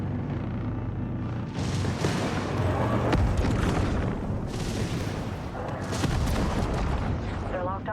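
Artillery fire in the space strategy game Homeworld 3 booms and crackles in dense overlapping blasts, loud and sustained with heavy low rumbles, while voices talk over the battle.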